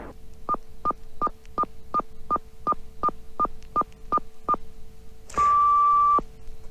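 A telephone number dialed on a touch-tone phone: a dozen evenly spaced short tone beeps, followed by a longer steady tone, clear and close.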